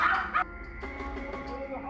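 Dogs of various breeds, including Pomeranians, kept caged long-term in a cramped animal hospital setting bark and yip, a brief loud burst followed by fainter whimpering and muffled background noise.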